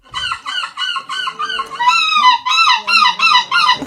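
At a seagull-imitating contest, a person screams like a seagull, a run of loud, harsh, high calls in quick bursts, alone with no talk.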